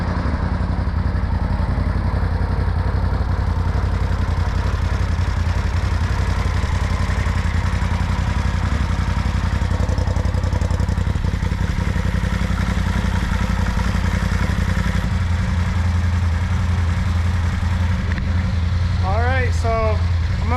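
A Polaris RZR Turbo engine idles steadily through heat cycles, a continuous low rumble with clatter layered over it, holding loud and even for the whole stretch.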